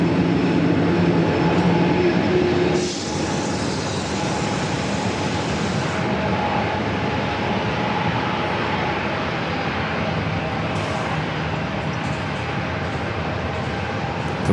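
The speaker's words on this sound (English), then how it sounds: "Cleared for takeoff from runway 27. Heading back to Amsterdam in the 787-9 Dreamliner." A KLM Boeing 787-9 Dreamliner takes off from runway 27 at San Diego airport, a broad steady jet engine roar heard from nearby that holds loud throughout.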